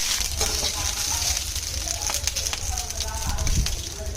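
Curry leaves fry in hot oil for a thuvaiyal, with a continuous close sizzle and crackle running under a speaking voice throughout.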